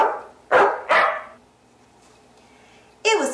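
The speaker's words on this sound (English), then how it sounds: "The dogs barked and cheered and carried on in this moment of" Dogs barking, three sharp close barks in quick succession, then a pause and a higher yelp at the end.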